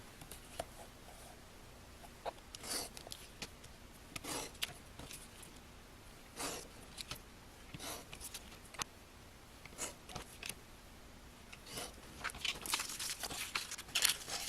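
Paper pages for a petal fold book being cut out, giving faint, close scratchy snips and rustling strokes in an otherwise quiet room.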